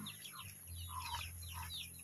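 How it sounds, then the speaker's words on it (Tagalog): Chickens cluck and chirp softly during feeding on a farm, several short overlapping calls over a faint low hum, fairly quiet and somewhat distant. "Dami na pagkain ng ating manok."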